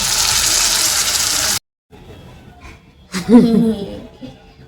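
Water is poured onto washed rice in a loud, steady gush for about a second and a half, then stops abruptly. Quieter handling noise and a brief voice-like burst follow.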